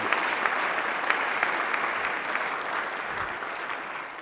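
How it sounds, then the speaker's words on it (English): Audience in a state House chamber applauding during a State of the State address, a steady mass of clapping at moderate loudness that eases slightly toward the end. "Can I please ask for a moment of applause for Brooke, who has been by my side for"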